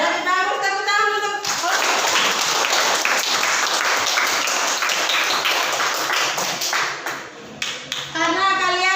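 A school class claps together after a group presentation, a dense burst of applause in the middle of the stretch, with a teacher's voice speaking before and after it.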